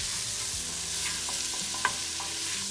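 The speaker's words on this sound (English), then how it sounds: "Let me just give that a stir." Bacon and garlic frying in a pan as they are stirred, a steady soft hiss of sizzling fat with a few faint scrapes and light clicks of the utensil against the pan, no voices.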